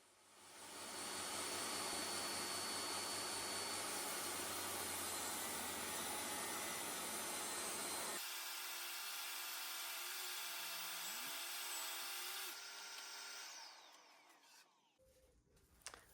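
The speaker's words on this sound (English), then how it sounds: "I go and cut a piece of timber down to" Power saw cutting a piece of timber down to size for a new kitchen, a loud continuous whine and roar that drops to a quieter running hum partway through before stopping.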